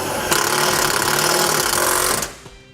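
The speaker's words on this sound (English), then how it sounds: "Now we use our provided self-tapping screw to secure it to the frame." A power driver whirs loudly for about two seconds, sinking a self-tapping screw into a 2017 vehicle's metal frame, then stops and spins down.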